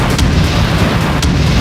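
Bomb explosion in an airstrike, a 2000-pound bomb dropped on Iranian missile sites, heard as a loud, sustained rumbling blast with two sharp bursts cutting through the roar.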